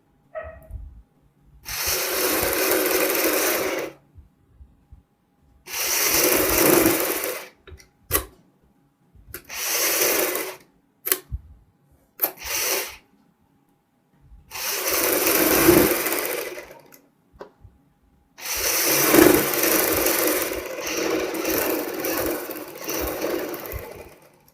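A sewing machine stitches the front of a jacket, starting from the armhole, running loud and close in several separate bursts of steady whirring with brief gaps between them.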